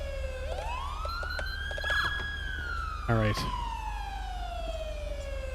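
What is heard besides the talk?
police car siren in video game GTA V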